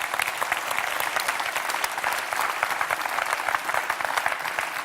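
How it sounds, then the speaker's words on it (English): Audience at the World Tourism Forum in Lucerne applauding to welcome a CEO on stage, a dense, sustained clapping from a large crowd, steady and fairly even for several seconds. "I want a big round of applause"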